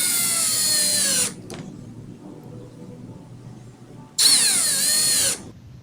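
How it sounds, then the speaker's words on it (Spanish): Power drill driving self-tapping screws into melamine board, two loud bursts of whining motor, the first about a second long and the second about a second and a half after a quiet pause. "utilizaré para fijarla 4 tornillos autoenroscantes que debo fijarme que no traspasen el grosor de la melamina"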